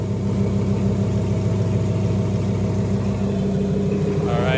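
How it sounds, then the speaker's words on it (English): An Audi R8 V10 idling nearby, a steady deep rumbling drone with even low pulsing that holds unchanged throughout, no voices over it. "And this is the idle"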